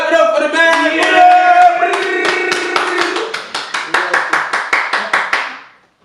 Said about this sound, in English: Clap it up for the man!